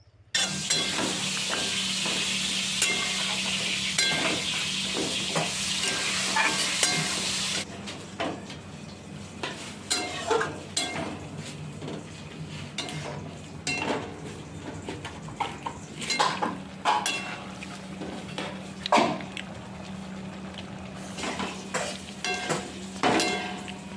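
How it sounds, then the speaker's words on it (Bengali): Spicy chicken is sautéed and stirred in a covered pan, a steady sizzle carrying repeated scraping and clinking of a utensil against the metal, loud and close with no talking. "এখানে অবশ্যই আপনারা বেশিক্ষণ ধরে এটা কষবেন ঢাকা দিয়ে দিয়ে"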